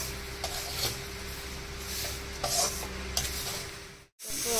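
Food frying in a pan on slow heat, with a steady low sizzle broken by a few scraping stirs, close and alone with no voices, then a brief cutout before the sizzle resumes.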